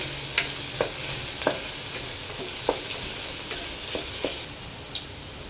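Onions with cumin and bay leaf sizzling in a pan for a mutton tengri soup, a steady close hiss broken by regular sharp scrapes and taps of a stirring spoon, no voices.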